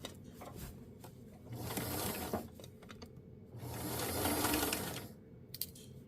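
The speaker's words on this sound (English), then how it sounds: "Now I'm doing this with a basting stitch" A home sewing machine runs long basting stitches on a New Look 6603 garment, two sustained whirring bursts of motor and needle clatter separated by quieter handling of the fabric, close and alone.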